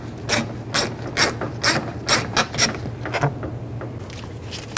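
A ratchet fitted with a T20 socket backs out a side mirror bolt on a 1999-2007 GMC Sierra. A close, steady run of crisp clicks comes in an even rhythm, then fades to quiet.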